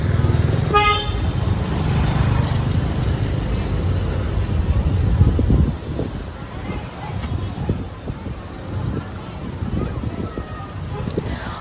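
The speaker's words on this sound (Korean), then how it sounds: "오토바이랑 차가 좀 많이 다니긴 하지만" Busy Hanoi old town street traffic with motorbikes and cars: a quick burst of horn toots near the start over a steady engine hum, then a softer, uneven rumble of passing vehicles.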